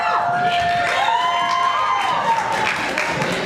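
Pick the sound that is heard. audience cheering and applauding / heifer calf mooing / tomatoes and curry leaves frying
audience cheering and applauding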